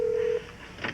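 Telephone keypad tones sound: one steady, loud touch-tone beep holds for about a third of a second, then fades, and a faint higher tone follows near the end, with no speech.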